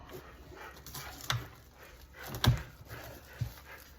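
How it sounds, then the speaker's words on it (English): A house dog reacts indoors to someone walking another dog past outside, giving a few soft barks and whimpers at moderate distance over low room noise, with no talking. "Somebody's walking a dog by the house."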